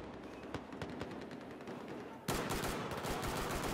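Pistol gunfire in Battlefield 4 sounds as quick successive shots over general battle noise, and a louder, denser burst of fire takes over partway through.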